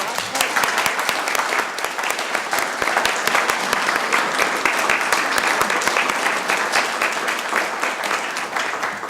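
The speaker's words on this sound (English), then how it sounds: "Give them a round of applause." A dense round of applause fills a city council meeting, many hands clapping steadily at an even level for several seconds with no pause.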